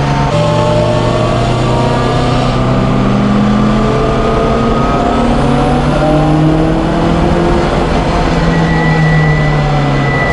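A Lancia Delta's engine revs hard and loud from close range as it pulls out of a corner at Donington circuit, its rising tones sweeping upward continuously with no one speaking.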